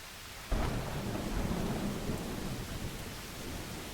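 A thunderstorm breaks with a sudden heavy rumble of thunder, then a dense, steady roar of rain continues underneath, loud and close, with no voices present.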